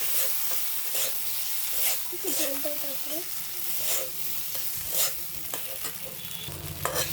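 Potatoes and eggs sautéing in a tiny mini-kitchen pan, a steady close sizzle of frying with occasional scraping stirs throughout.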